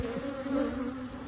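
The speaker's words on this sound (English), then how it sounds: "with all these bees in the air" Close, continuous buzzing of honeybees in the air during a beehive inspection, a steady low drone that wavers slightly in pitch.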